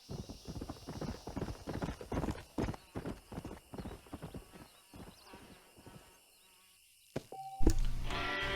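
A stallion's hooves clip-clop in the Red Dead Redemption video game, a brisk run of close, distinct hoofbeats that slows and thins out before a brief, sharp sound near the end.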